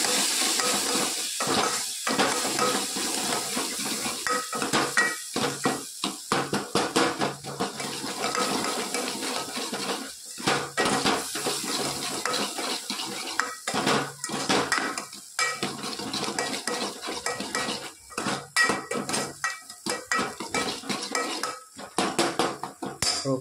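Onion stuffing with garam masala and salt for stuffed green chillies being mixed in a pot, heard as steady, close scraping and clattering of a spoon against metal with a faint sizzle underneath, continuous throughout.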